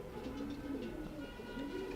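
A male breeder pigeon of a Silvy line coos softly and repeatedly at close range, low warbling calls over a quiet background.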